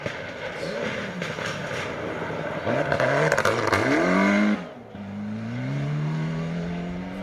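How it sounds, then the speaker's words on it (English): A Mitsubishi Evo 9 rally car engine roars and revs hard nearby on a North Wales rally stage, rising and falling through gear changes with crackling pops and bangs from the exhaust. "the familiar sound of the Mitsubishi popping and banging its way through the stage"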